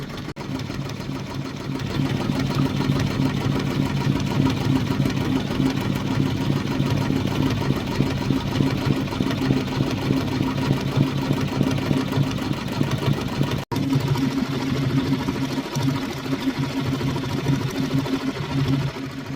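A Redline embroidery machine stitches a design onto a towel, a steady fast mechanical chatter running close and continuous with one brief break, no voices.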